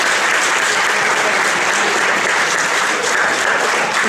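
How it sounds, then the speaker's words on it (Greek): Lecture audience at a web development seminar applauding steadily and loudly, a dense, continuous wash of clapping with no pauses from start to finish. "Η Χριστίνα, ένα χειροκρότημα."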